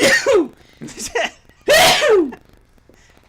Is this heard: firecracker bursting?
no